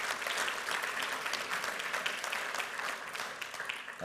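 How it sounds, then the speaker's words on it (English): An audience at an economy conference breaks into sustained applause for Los Angeles mayor Eric Garcetti, a dense, even wash of many hands clapping in a hall. "Let's give Eric Garcetti a round of applause."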